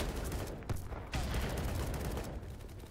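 A grenade blast in the shooter game Battlebit, a loud broadband boom that sets off a dense, sustained rumble with sharp crackles at about 0.7 and 1.1 seconds, surrounded by continuous gunfire.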